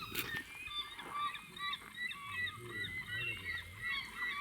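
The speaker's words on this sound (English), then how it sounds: "Hear the birds?" Geese honking near lakes on the Canada border en route from Skagway, Alaska, a continuous chorus of repeated nasal calls from a flock at moderate distance, with a faint low voice beneath.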